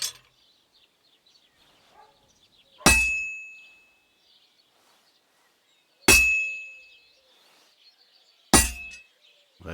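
Three sharp metallic clangs ring out from a hammer striking a sword on an anvil during forging in the video game Kingdom Come: Deliverance 2, each with a bright ringing decay, spaced a few seconds apart against near silence.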